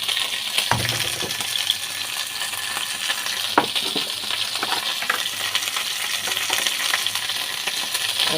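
Ivy gourd frying in a pan with poppy seed paste, a steady close sizzle running throughout with a few sharp clicks and taps from stirring.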